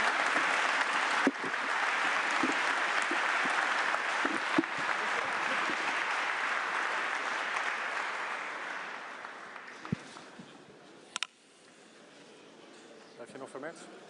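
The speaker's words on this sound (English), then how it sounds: "One more applause." An audience applauds at an EU leaders' gathering in Antwerp. Sustained clapping fills the room at full strength for several seconds, then gradually thins and fades, leaving a few scattered claps at the end.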